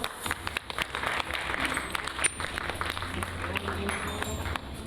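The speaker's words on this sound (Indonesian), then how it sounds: "Ya, boleh tepuk tangan dong" Audience clapping at a large sports entertainment event, steady and dense across the hall with scattered cheers and voices mixed into the crowd noise.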